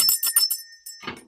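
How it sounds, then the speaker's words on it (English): A small hand bell rung during a spiritual card reading: a run of quick bright jingling strikes with a thin lingering ring, a brief pause, then another shake. "Ring this bell."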